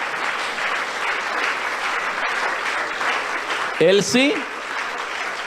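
A church congregation claps in steady, broad applause, and a voice speaks briefly over it near the end.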